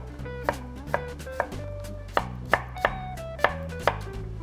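A knife chops cucumber into bite-size pieces on a cutting board, about nine sharp, close knocks at an uneven pace over a low steady hum.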